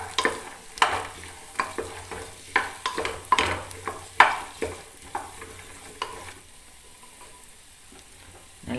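Cut bottle gourd and green peas frying in a pan, with a soft sizzle beneath a series of sharp spoon scrapes and stirring knocks that thin out, leaving a quiet sizzle at the end.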